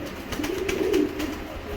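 Pigeons cooing close by, one soft low rolling coo over faint ambient noise.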